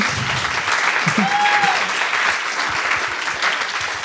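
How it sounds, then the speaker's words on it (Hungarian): Audience at a Hungarian talk event applauding the guests, dense steady clapping from a full room that continues throughout, with a voice briefly heard over it. "tapsoljátok meg őket!"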